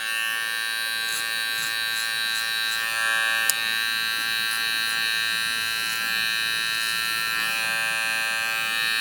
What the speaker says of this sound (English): I got the clipper angled and I'm just staying on the hairline